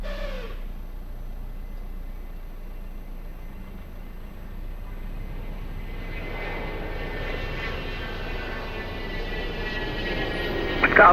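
An airliner taking off from runway 02 at Lisbon Airport: a broad jet engine roar that builds steadily over several seconds and grows louder toward the end, heard from a distance with no voices.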